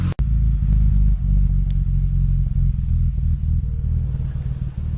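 BMW M3 engine idling through an exhaust taken from a 328, a steady deep rumble close by with slight uneven pulsing and no talk.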